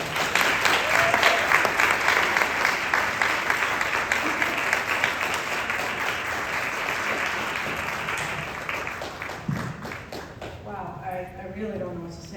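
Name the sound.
audience applause for Professor Lisa Noggle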